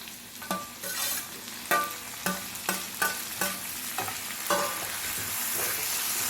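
Onions, tomatoes and green chillies fry in oil for a Kerala-style clam roast, with a steady loud sizzle broken by rhythmic stirring scrapes about every half second, and no voices.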